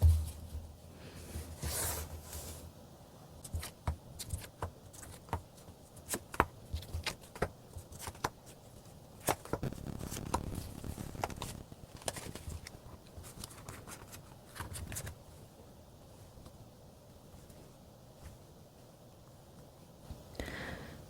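Tarot cards being shuffled and drawn for a relationship reading make soft, scattered papery flicks and brushing taps, faint and close, with no talking.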